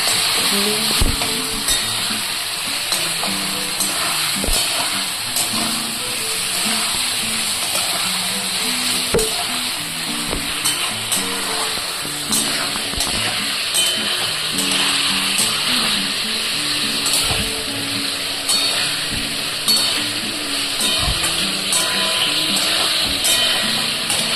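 Cauliflower frying with spices in a pan for a Bengali egg and cauliflower dish, steady loud sizzling with frequent spatula scrapes and clinks throughout, close up and without talk.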